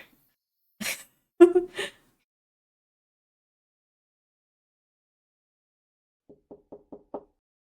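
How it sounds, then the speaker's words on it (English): Five quick, evenly spaced knocks on a door ring out in a silent, empty hallway, following a few soft breaths and murmurs a few seconds before. "My knock sounds uncomfortably loud in the empty hallway"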